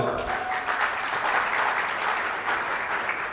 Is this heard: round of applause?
yes